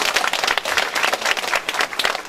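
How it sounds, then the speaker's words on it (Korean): A crowd applauds loudly at a local community meeting where a council chairman is introduced, giving dense, energetic rapid clapping close by for a short burst. "큰 박수 한번 부탁드리겠습니다."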